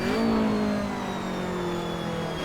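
A 1984 Ford Capri's engine revs high and steady through the Bathurst circuit in the Assetto Corsa racing game, a loud continuous droning whine that holds its pitch with a slight dip, with no talking.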